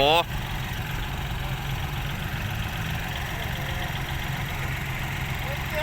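A tractor engine idles and chugs steadily with a low, rough drone throughout, beginning with a brief whining tone over the rumble.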